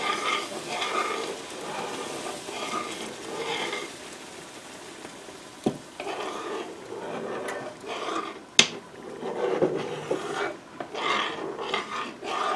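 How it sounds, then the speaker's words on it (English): A spoon scrapes and stirs flour through hot fat in a pan for Southern tomato gravy, a soft continuous rasping sizzle with a few sharp clicks of utensil against the pan. "I'm going to stir it around and let it pick up the flour."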